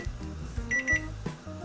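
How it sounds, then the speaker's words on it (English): A kitchen timer rings while vegan jumbo hot dogs cook in a pan, giving a short, bright electronic beeping of a few pulses over low stovetop sizzle and hum. "So the timer just rung,"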